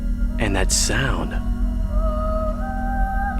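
A song from the PS2 game Xenosaga Episode II: ethereal, sustained, wavering tones rise softly after a brief spoken voice at the start.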